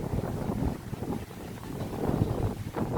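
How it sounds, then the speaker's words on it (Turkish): Wind rushes across the microphone in gusty, rumbling bursts for a few seconds at an outdoor viewpoint near İznik, Turkey. "Rüzgar da gerçekten çok iyi."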